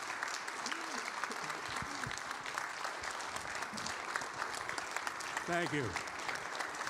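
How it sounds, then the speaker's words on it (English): Audience applause at a history talk on women in the US Air Corps: sustained clapping from a hall crowd, steady throughout, with a speaker briefly talking over it. "a huge round of applause"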